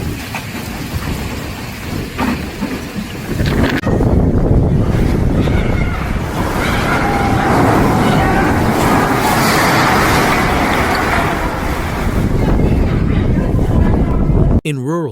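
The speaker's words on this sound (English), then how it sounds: "Vehicles fought against the wind, with some coming to a complete stop." Extreme wind gusts during a severe storm sweeping a Chinese city roar in a loud continuous blast, buffeting hard with a sharp rising surge partway through and a brief break near the end.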